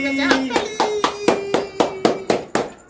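Hands clap at a birthday celebration in about ten crisp, evenly spaced beats close to the listener, while a voice holds a tone underneath.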